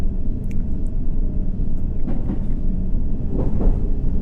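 A London Underground D-stock train pulls away on the city line in the subway simulator World of Subways 3, a steady low rumble of wheels and motors with a few faint clanks and squeals over it, close and continuous.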